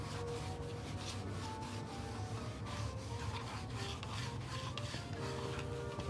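A G+ graded vinyl record being scrubbed clean by hand, a continuous close, rasping rub with steady brushing strokes and no talking.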